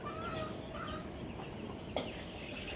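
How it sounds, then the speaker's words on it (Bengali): Free-range hill chickens roam a winter farm, clucking faintly at a distance over a steady hiss of outdoor background noise. "বেশিরভাগ মুরগি এখানে পাহাড়িগুলা"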